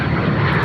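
A Pilatus PC-24 business jet passes overhead at Sydney Airport, giving a loud, steady roar of jet engines that fills the short moment alone.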